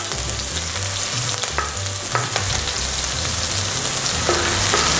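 Minced red onion frying in hot oil in a wok, a loud steady crackling sizzle running throughout with a few light utensil clicks over a low background hum.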